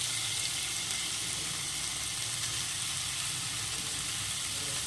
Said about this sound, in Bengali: এখন এটা একটু নেড়ে করে ভেজে নিতে হবে এখন এর মধ্যে দিয়ে দেবো চিকেন কিমা বা চিকেন কুচি